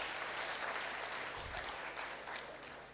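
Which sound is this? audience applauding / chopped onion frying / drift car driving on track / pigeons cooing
audience applauding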